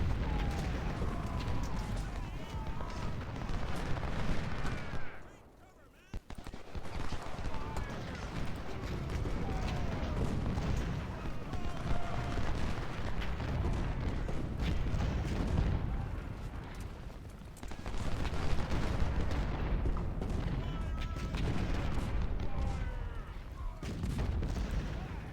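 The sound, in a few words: 24-pounder artillery fire in video game Ultimate General: Civil War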